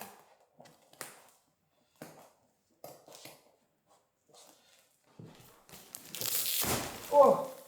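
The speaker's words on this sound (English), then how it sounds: "I'll cut the mattress." A plastic-bagged mattress is cut open: a few scattered soft taps and rustles, then a loud, close rush of tearing, crinkling plastic swells near the end.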